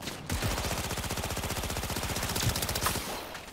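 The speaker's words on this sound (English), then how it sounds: "Man, I love these smart weapons." A rapid, steady stream of smart weapon gunfire in Cyberpunk 2077 keeps up for over three seconds, evenly paced and fairly quiet, with a couple of heavier thumps mixed in.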